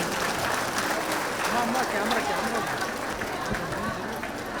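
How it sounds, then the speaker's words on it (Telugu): A crowd at the Chalo Charminar vegetarian rally claps loudly and steadily throughout, a dense continuous wash of applause with some voices and chatter mixed in. "ఒకసారి గట్టిగా చప్పట్లతో"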